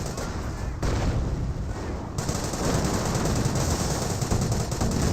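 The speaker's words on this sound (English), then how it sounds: "17 pounders are receiving quite a bit of fire there." Dense artillery and machine-gun fire pound steadily around 17 pounder anti-tank guns in the Company of Heroes game, a continuous loud barrage of overlapping shots and blasts with no pauses.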